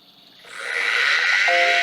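An Apple Macintosh LC powers on with a brief startup tone as its noisy fan spins up into a loud, rising, steady whir over about two seconds.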